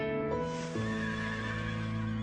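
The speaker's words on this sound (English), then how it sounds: "Like horses," A horse neighs loudly and close by, one long whinny with a strong tonal, wavering pitch that carries through the whole moment without any talk.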